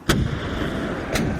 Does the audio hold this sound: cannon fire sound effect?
yes